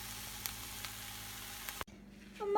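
Eggs frying over easy in a home kitchen pan give a steady, close sizzle that cuts off abruptly partway through, leaving a quieter hiss before a brief clatter at the end.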